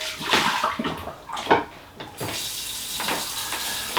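Water poured from a tap to refill a pet's water dish, a steady close splashing rush with a few louder gushes, no talking.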